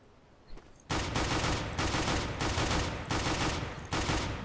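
A pistol in CS:GO fires two-shot bursts: a faint shot, then about five loud, sharp bursts at a steady pace, close and clear with no talking.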